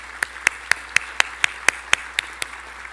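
A few people clap sparsely for honorees of an Outstanding Mother Award, roughly ten crisp, evenly spaced claps in a steady rhythm, fairly faint against a quiet room.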